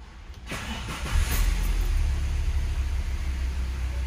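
A Citroën car engine cranks and catches, then settles into a steady idle, close by, with no belt squeal and no talking.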